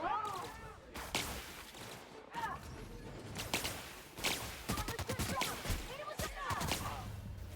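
Gunfire in the video game The Outer Worlds, a run of sharp shots and impacts mixed with busy game effects and a voice, dense and fairly loud throughout.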